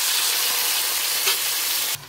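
Tenderized mutton with whole garam masala spices sizzles loudly in a pan while being stirred, a constant hissing fry with a brief scrape, ending abruptly as the sizzle drops.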